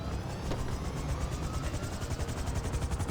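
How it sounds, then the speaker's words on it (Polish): A helicopter in Grand Theft Auto V flies with a loud close rotor chop, rapid regular thumping pulses over a dense engine whine throughout. "niestety teraz latanie helikopterem"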